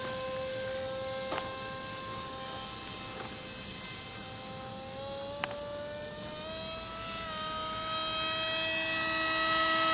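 Electric-sounding whine from an RC model plane at Hermann Airport, a steady tonal drone with harmonics that shifts gradually in pitch and swells louder toward the end, with a couple of faint clicks and no talking.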